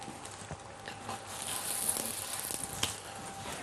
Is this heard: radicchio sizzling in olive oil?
yes